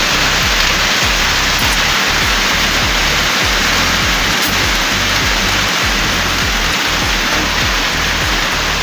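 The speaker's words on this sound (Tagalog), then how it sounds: "Umulan na." Rain pouring during a thunderstorm: dense, steady hiss of heavy rainfall on surfaces, loud and unbroken for the whole stretch, with no voices.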